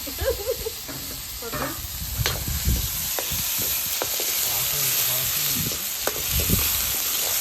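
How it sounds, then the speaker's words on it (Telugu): Onion, green chilli, ginger and tomato fry in a pan for a village-style chicken curry, a steady sizzle and hiss broken by repeated scraping stirs, with faint background voices. "అల్లం ఎల్లిగడ్డ టమాటా ఉల్లిగడ్డ అన్నీ కదా నాన్న వేసింది అది వేగిపోయింది"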